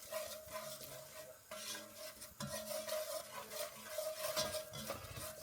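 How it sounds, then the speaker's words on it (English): A spoon stirs flour into simmering chicken fricassee to build a roux, a soft continuous scraping and swirling with faint sizzle underneath, steady and close with no talking. "So just going to combine that well and cook this out for a couple of minutes to form our like a roux base."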